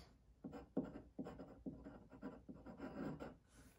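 Pen or marker writing by hand on a board or paper while chemistry ester names are worked out, a run of uneven scratchy strokes in short bursts, close and fairly quiet with no talk.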